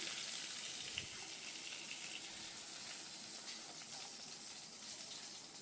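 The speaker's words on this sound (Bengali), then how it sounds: "এবার ওই তেলেই আমি বড়িটা ভেজে নিচ্ছি" Bori lentil dumplings frying in hot oil left over from frying rohu fish in a Bengali kitchen, a faint, steady, even sizzle with one small pop near the start.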